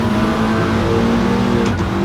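Mitsubishi Lancer Evolution engine in a sim racing game, turbocharged and running around 12 PSI, revving loud and steady with a sustained harmonic drone and a brief shift in pitch near the end.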